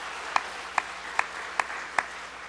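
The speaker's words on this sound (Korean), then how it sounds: "우리 격려의 박수 한번 치면 좋겠습니다." Congregation at a Sunday church service claps in slow unison for a children's praise group: five evenly spaced, sharp claps, moderately faint over a quiet hall hum.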